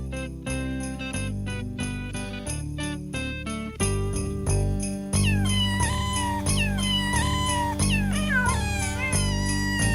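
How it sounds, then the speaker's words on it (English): Cats meow in sung tunes over a steady synth backing with bells, a track from a 1993 CD of Christmas songs. The meows repeat continuously and loudly in melodic phrases, with no talk. "Christmas songs sung by cats"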